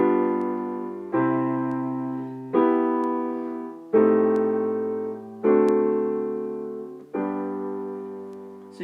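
A chord progression that modulates to G through a borrowed A half-diminished seventh: six sustained chords, each struck cleanly about every 1.4 seconds and left to ring and fade before the next.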